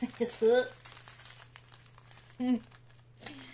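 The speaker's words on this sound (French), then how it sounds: "on va quand même ouvrir un peu les diamants" A plastic bag of diamond painting drills is handled and opened, giving short crinkling bursts near the mic with pauses between them. A voice speaks softly around the rustling.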